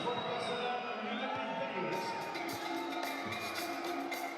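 A crowd in an arena at a SIG Strasbourg v Lietkabelis Basketball Champions League game grumbles and murmurs after a foul call. The steady, fairly loud noise runs throughout beneath a commentator's voice.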